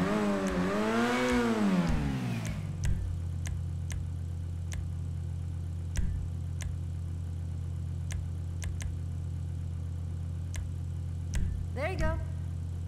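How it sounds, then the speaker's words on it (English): A Grotti Bestia GTS engine in GTA Online gives a swooping rev at the start, then settles into a steady low idle with occasional clicks and a short blip near the end. "Now that's some kind of engine."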